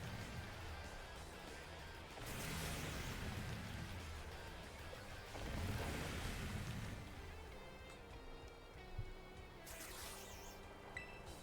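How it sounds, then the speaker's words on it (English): Steady rain in a Pokémon video game rushes without a break, a dense hiss with swells of heavier downpour, sounding like a full storm throughout. "Had to wait for the rain to end."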